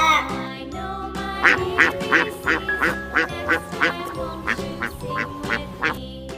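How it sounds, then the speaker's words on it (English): A duck quacks repeatedly in short, evenly spaced bursts over a steady background of music or tones, fairly loud and close. "D for duck"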